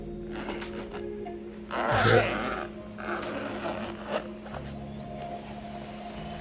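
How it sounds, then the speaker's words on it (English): The zipper of a pickleball glasses case is pulled open in a quick run, with light scraping and handling rustle around it, close up. "Nice solid zipper."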